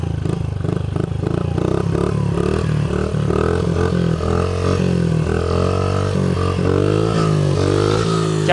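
A Honda CRF50 dirt bike engine revs repeatedly while being ridden on a public road, its buzzing note climbing and dropping through gear changes, loud and close throughout.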